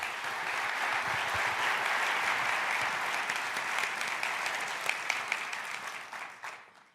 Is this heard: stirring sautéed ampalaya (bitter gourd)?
no